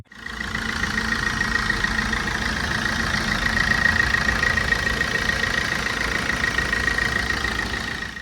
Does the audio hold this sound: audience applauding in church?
no